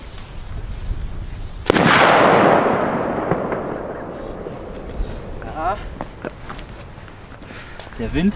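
A brocade crown to red firework bursts with a sharp bang, then a long crackling, hissing shimmer fades out while faint voices and scattered pops continue.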